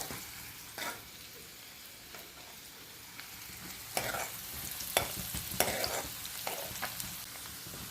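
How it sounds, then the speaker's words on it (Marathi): Chopped onions fry in a pan and are stirred for a Nagpur-style phal dish, giving a quiet, steady sizzle broken by scattered spoon scrapes and taps that grow busier in the second half. "मिक्स करून घेऊ कांद्याचा कच्चापणा निघाला पाहिजे थोडं थोडंसं लालसर होऊ द्यायचा कांदा"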